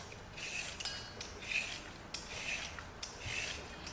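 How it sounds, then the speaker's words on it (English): Two carrots are peeled by hand in a home kitchen, giving a run of soft, scraping rasps in steady strokes about once a second, fairly quiet and close, with no talking. "Two carrots. We're gonna peel them."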